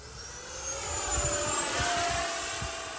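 A Freewing F-14 Tomcat RC jet with twin 64mm ducted fans flies by on its maiden flight, a steady whooshing turbine whine that swells slightly as it passes, moderately close with no voices.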